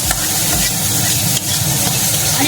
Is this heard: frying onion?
yes